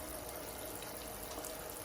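Tap water runs steadily into a sink for a hand rinse after a surgical scrub, a faint, continuous broadband hiss with no talking.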